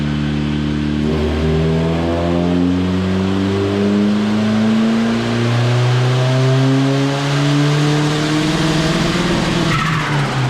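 A car engine revving hard on a dyno during a horsepower pull, loud and continuous, its pitch climbing steadily as the revs rise and then dropping off sharply at the end.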